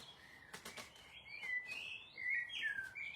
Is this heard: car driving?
no